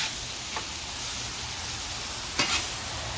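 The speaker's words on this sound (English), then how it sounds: "You got some singeing going on with sausage." Sausage sizzling and browning in a hot pan, a continuous frying hiss with two brief scraping stirs, the louder one near the end.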